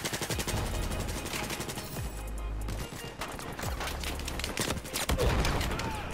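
Dense, continuous automatic gunfire in Battlefield 4 multiplayer, rapid overlapping bursts with low booming explosions underneath, loud and sustained throughout with no clear talking.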